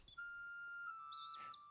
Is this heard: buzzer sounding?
no